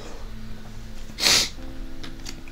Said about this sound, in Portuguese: Perdoa a tosse aí, gente.